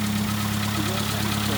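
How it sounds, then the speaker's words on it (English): Old car with a 6-volt system running during a jump start, a steady low idling engine with faint knocking, heard close and continuous for a short moment. "So we're jumping off this kind gentleman here with his 6-volt running engine"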